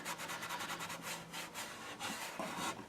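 A cherry wood board edge is rubbed with quick back-and-forth sanding or buffing strokes, a close, soft rasping that repeats in an even rhythm with a short pause before resuming.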